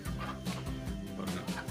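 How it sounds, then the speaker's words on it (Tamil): A brooding hen in a chicken shed makes low, repeated clucks in a short, close murmuring series. "கோழி அவயத்தில் உக்காண்டிருக்கு."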